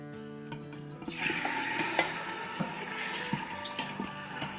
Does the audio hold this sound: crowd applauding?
no